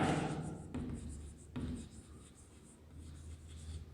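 Pen or pencil writing out an answer during a Class 4 maths lesson, a faint scratching with short strokes and pauses, heard up close at low level with a quiet voice in the background.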